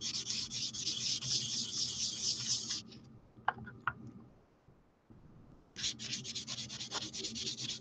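Faux gemstones made of Pardo jewelry clay being buffed, a close, faint, steady rubbing swish in two bursts separated by a pause with a few small clicks.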